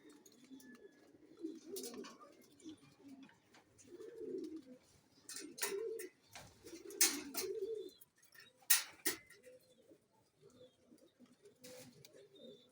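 Racing pigeons at a training loft in San Ildefonso, Bulacan coo in low, repeated bursts, with sharp clicks and brief flutters scattered between the calls, moderately close and without talk.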